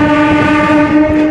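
Train horn sounded by a locomotive pilot at Ongole station, a loud sustained tonal blast held steadily throughout, close by and alone without talk.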